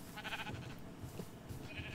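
Sheep in the Minecraft video game, Java Edition 1.15.2, bleat faintly a few times in short nasal calls against a quiet background.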